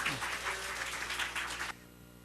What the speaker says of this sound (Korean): 주님께 박수만 잘 올려드리면 돼.